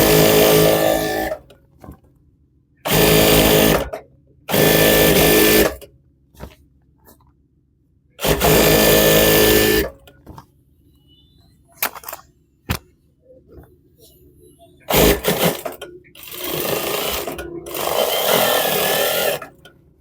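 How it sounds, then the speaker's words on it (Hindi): An electric sewing machine stitches a pajama trouser seam in several short, loud runs of about a second each, with quiet pauses between them and faint handling noises in the gaps. "अब साथ पैर की सिलाई रख के फिर लगाएंगे दूसरी सिलाई"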